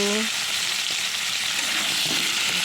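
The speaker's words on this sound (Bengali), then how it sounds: "এরপর আমি কেটে রাখা আলু আর ওলকপিগুলো আমি দিয়ে দিচ্ছি দিয়ে এখন আমি ভালো করে নেড়ে চেড়ে নেব" Cut potatoes and kohlrabi fry loudly in hot oil after tempering, a dense close sizzle with scraping stirring in the pan throughout.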